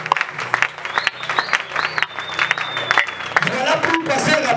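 A church congregation applauding and cheering in praise during a French-language worship service, a steady wash of clapping under a singing or shouting voice that fades into a louder, denser burst of crowd applause near the end.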